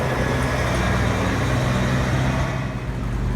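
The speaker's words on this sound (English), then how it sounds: "Here's this truck again, except this time he's hauling a mulch trailer" A truck, an International, rolls past on a wet downtown street in the rain, its steady engine rumble and tire hiss loud and close for a few seconds.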